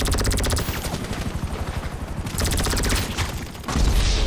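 Gunfire in Grand Theft Auto Online comes as rapid automatic bursts, loud and close, over a constant helicopter rotor drone. The firing pauses briefly before the bursts resume.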